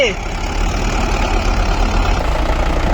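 Mahindra tractor engine running with a loud, steady low rumble, close by, with people talking over it.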